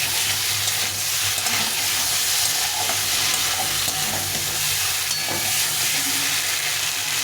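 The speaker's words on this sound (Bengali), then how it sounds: "এখন দুটোকে ভালো করে কষিয়ে নেব" Fried potatoes and cauliflower being stirred and sautéed in a pan, a steady close sizzle with scraping spoon strokes running throughout, no talking.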